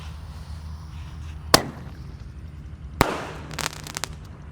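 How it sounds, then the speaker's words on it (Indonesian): A small Sonic Boom Roman candle firework is set off outdoors, firing two loud, sharp bangs about a second and a half apart, then a quick cluster of smaller pops, all over a steady background hiss. "Lanjut di sini ada Sonic Boom pelontar Roman Candle yang ukuran kecil guys. Kita masukkan dan siap kita nyalakan ya."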